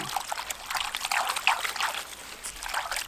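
Water trickles and splashes steadily as a freshly unpotted taro-type ornamental plant corm (bon si, Caladium) is rinsed clean of composted leaf soil, the pouring close and continuous with no voices.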